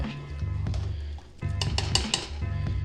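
A utensil stirring salted water in a metal pot for cooking pasta, repeated scraping and clinking against the pot over a steady low hum, close and fairly loud, no talking.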